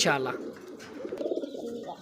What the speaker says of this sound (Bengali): কালো কালারের মধ্যে এক জোড়া কবুতর